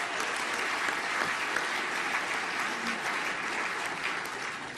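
A crowd applauds continuously and evenly for a few seconds at the 2011 Britannia Awards ceremony in Los Angeles, sounding moderately distant.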